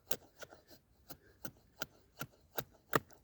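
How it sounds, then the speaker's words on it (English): A khukuri knife shaves fine curls from a wooden spoon blank, giving about ten short, crisp scraping strokes at a steady rhythm, close and fairly quiet, with no talking. "you can see how easily you can make really fine shavings"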